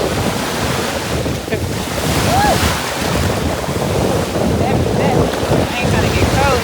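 Ocean waves wash in on a breezy beach under loud, gusting wind buffeting the microphone, a continuous roar of surf and rushing air up close, with no talk.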